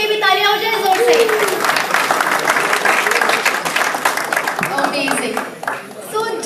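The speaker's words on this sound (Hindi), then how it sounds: "can I have a huge round of applause for them?" An audience claps loudly for award winners at a bilingual school or community event, a brief voice at the start giving way to a broad, steady burst of applause that gradually thins out toward the end.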